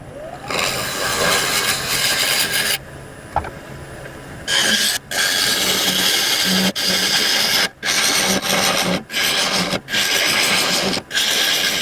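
A lathe hollows out hard, dense kiawe wood, with the gouge scraping loudly and continuously. Several short breaks interrupt the cutting, and the rough, gritty rasp comes back after each one.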